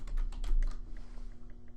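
Quick bursts of keystrokes on a computer keyboard, a handful of close, crisp clicks clustered at the start and thinning into a few scattered taps.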